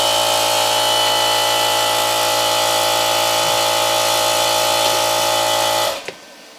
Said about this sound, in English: I'm going to try this cast iron reciprocating style air compressor that takes 13 amps, and see if it can start it up